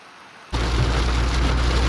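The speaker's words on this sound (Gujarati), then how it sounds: "મિત્રો વરસાદ ચાલુ થઈ ગયો હોય" Steady heavy rain in Kerala at a diesel fuel stop suddenly rises to a constant broadband hiss and patter after a quiet start, loud and close.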